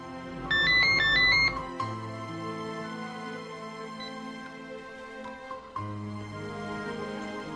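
A phone ringtone for an incoming call plays a short melodic electronic jingle, loud and near, over a soft musical background that carries on after it.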